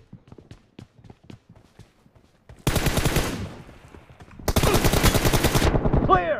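Light rhythmic footsteps patter in PUBG before two loud bursts of rapid automatic gunfire cut in, the first lasting under two seconds and the second slightly shorter, both close and dominant.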